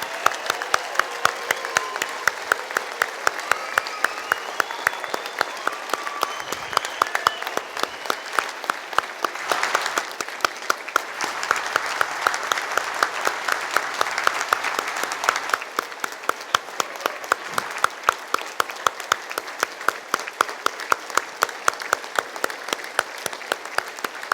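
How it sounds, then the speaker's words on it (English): A hearty round of applause for graduates fills a university graduation ceremony hall: dense, sustained clapping from a large crowd, with individual sharp claps audible throughout, swelling slightly midway and continuing strongly to the end. "give all our graduates a hearty round of applause"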